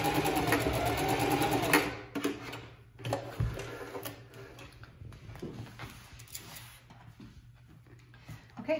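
A sewing machine running a seam on an apron, stitching forward and backward in short bursts, a close rapid mechanical whirr that stops and restarts with small clicks and handling noises between runs.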